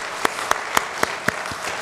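A church congregation at a Wednesday prayer service claps in slow, evenly spaced unison, six sharp claps in under two seconds over a soft room murmur.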